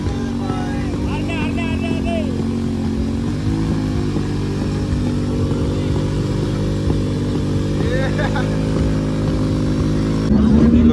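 Kawasaki Ninja H2 motorcycle during a burnout at India Bike Week, its engine held at a loud steady drone with rising revs, close by, while voices carry faintly over the noise.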